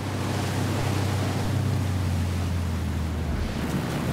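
In Ghost Recon Wildlands, a boat on a river gives off a steady low engine drone under constant rushing water and wind, loud and continuous throughout.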